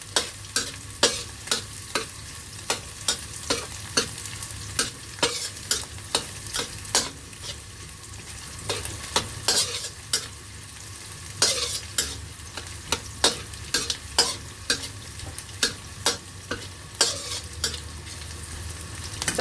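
Vegetables stir-fried in a pan give a steady soft sizzle punctuated by regular, rhythmic spatula scrapes and clacks repeating every second or so, close and without speech.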